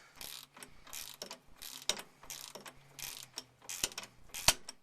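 Rhythmic clicking of a ratchet tightening a tie rod on a GM square body truck, repeated bursts of pawl clicks with short pauses, close and fairly quiet, no talking.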